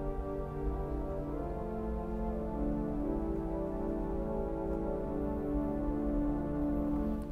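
Five-manual Austin pipe organ playing the angel voice combined with muted violins 8-foot stops, a warm sustained chord that shifts gently midway and holds steadily to the end, with no voices.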